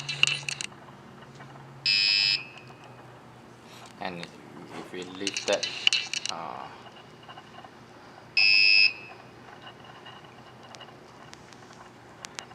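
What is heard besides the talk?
IoT project buzzer sounding as a fire alarm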